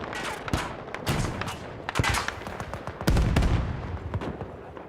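Rapid gunfire from snipers and other weapons in a video game battle, with sharp repeated shots and bursts crackling over a busy, continuous background of combat noise.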